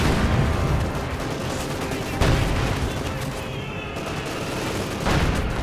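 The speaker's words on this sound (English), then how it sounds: "Light artillery barrage in an attempt to cover things, but simply too late." Light artillery barrage and gunfire in the World War II strategy game Company of Heroes 2, a dense continuous wash of distant explosions and small-arms fire with a few heavier thumps rising out of it.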